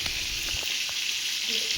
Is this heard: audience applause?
no